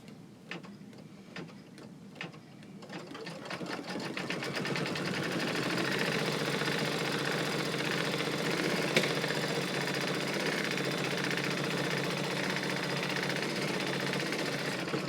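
An embroidery sewing machine stitches an in-the-hoop sewing pattern weight in silver thread. Soft ticks come first, then a loud, steady, rapid stitching drone that runs on without voices.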